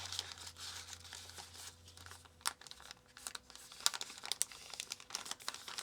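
Plastic baggies crinkling and rustling while being handled during a diamond painting kit unboxing, bursts of close crackling and tearing-like crunches, intermittent and uneven, with no talk.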